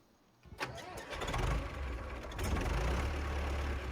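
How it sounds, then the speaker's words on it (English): A tractor engine in Farming Simulator 25 cranks and catches, rumbling up into a steady, loud idle that carries on for several seconds with no talk. "Come on, are you running? Alright, so that sounds pretty good."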